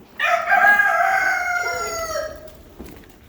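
A rooster crows on a farm where chickens are kept, one loud, close, drawn-out call that fades at the end, followed by a faint softer sound, with no talking.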